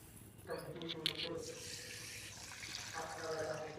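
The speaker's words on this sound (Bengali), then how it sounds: "সাবুটাকে 2-3 বার ধরে জল পাল্টে পাল্টে ধুয়ে নেব।" Sago pearls being rinsed by hand in a bowl of water in a home kitchen, a steady sloshing and swirling of liquid with running-water texture, close and moderately loud, with a faint voice underneath.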